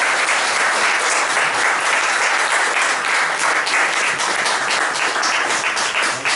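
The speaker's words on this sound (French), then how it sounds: "On peut l'applaudir." Loud, sustained applause from an audience at an evening literary reading, dense clapping filling the room steadily with no voices over it.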